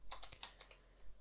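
Rapid keystrokes on a computer keyboard, about eight crisp, close taps in quick, uneven succession with a short pause before a final burst, entering a field name for a WordPress page.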